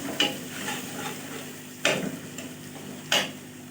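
Spice paste stir-fried in a kadai, a steady sizzle with three sharp spatula scrapes spaced about a second or more apart, close and fairly quiet.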